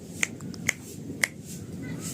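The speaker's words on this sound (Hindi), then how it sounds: "यहाँ जहाँ चुटकी बजा रहा हूँ" Finger snaps made by a physiotherapy instructor leading a Parkinson's disease balance exercise session: three sharp, crisp snaps at uneven intervals, fairly close, over a low murmur of room noise.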